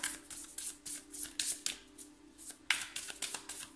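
Tarot cards shuffled by hand for a reading, a steady run of soft riffling and flicking bursts repeating in quick succession, close up and fairly quiet, with no talking.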